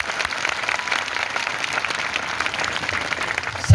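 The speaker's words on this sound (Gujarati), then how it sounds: "બધા જ માટે એકવાર આપણે જોરદાર તાળીઓ પાડી લઈએ" An audience of elders, youths and women at an outdoor tribal protest rally in Tapi, Gujarat claps steadily in a dense, sustained round of applause that ends with a soft thump.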